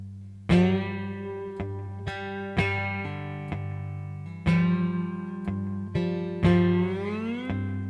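A cigar box guitar playing a pentatonic slide blues riff, with a low droning bass under plucked notes that are struck one by one and slide upward, close and clear with no talking.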